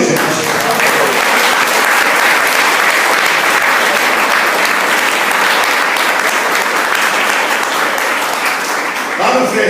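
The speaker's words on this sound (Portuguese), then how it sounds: "Vamos dar um aplauso a Deus, gente." A church congregation at a worship service bursts into loud, sustained applause, a steady dense roar of clapping close and filling the whole clip, with voices mixed in.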